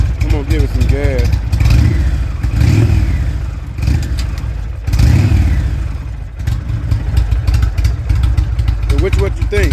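A motorcycle, either an Indian or a Kawasaki, revs up close and loud, its engine rising and falling in repeated throttle blips over a steady rumbling idle, and people talk over it.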